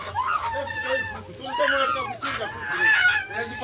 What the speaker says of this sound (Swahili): Shika kuku. Shika chukua kuku.